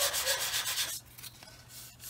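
Sanding stick rubbing filler on a 1/48 scale plastic model fuel tanker, a close rapid scratchy back-and-forth for about a second, then lighter, softer strokes.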